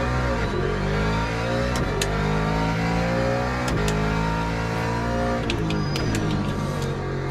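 A GT3 race car in a racing video game growls loudly and continuously, its engine note rising and falling through repeated revs and gear changes, with occasional sharp clicks and no talking.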